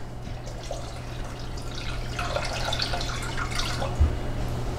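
Water is poured into a saucepan already holding sugar, ready for chocolate-covered nougat, making a steady splashing trickle that grows a little louder for a few seconds in a quiet kitchen.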